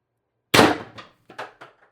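A single sharp airsoft shot from an X-68 Storm Trooper build fires loud and close, then a few quieter clicks and rattles trail off over the next second.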